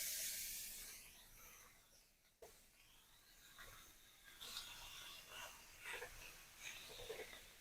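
Pieces of beef sear on a hot comal, giving a steady hissing sizzle that swells and crackles in uneven bursts. The sound is close and fairly quiet, with a brief dip partway through and no talking.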